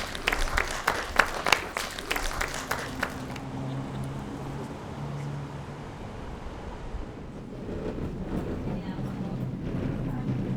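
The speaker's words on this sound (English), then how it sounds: "Give yourself a round of applause." Applause from an audience at a hospital infection-control presentation, a dense patter of claps for about three seconds that then thins into a low, fading background.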